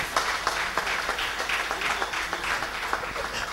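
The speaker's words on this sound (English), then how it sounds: "A big round of applause, dear friends." An audience at a celebration ceremony in Bangalore applauds with steady, slightly uneven claps, a thin round of applause heard from a middle distance for a few seconds.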